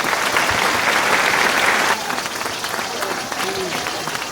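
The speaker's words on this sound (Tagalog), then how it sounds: "Isang palakpak naman dyan." Audience applause bursts out as a steady, dense clatter for the first two seconds, then fades into a looser crowd bed with a voice speaking over it.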